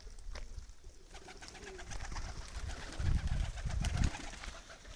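Adana pigeons coo softly and repeatedly in a loft, with rustling, wing flutters and low murmuring throughout, and a few louder throaty coos near the end.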